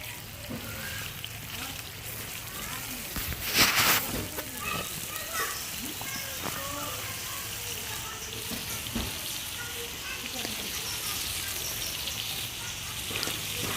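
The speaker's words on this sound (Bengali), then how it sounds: "এখন হচ্ছে মাছটাকে আমি ফ্রাই করে নেব ভর্তার জন্য।" Fish frying in a pan for a village-style bharta, a steady oily sizzle with occasional louder spits and pops and a brief burst of spatter, close by, with no talk.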